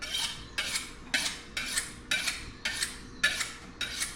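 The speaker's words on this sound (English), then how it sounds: "because I use a high carbon blade, I just use a steely" A high-carbon knife blade is drawn against a sharpening steel with eight quick, evenly spaced metallic swipes, each a bright, close scraping ring.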